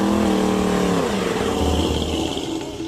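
A 1962 Chevrolet Impala V8 engine roars loudly up close, its pitch dropping as the revs fall away into a rumbling growl.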